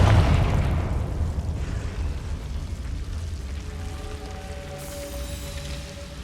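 A Confringo blasting spell explodes in Hogwarts Legacy: one loud, deep burst at the start that rumbles and fades over several seconds, followed by a faint sustained tone near the end.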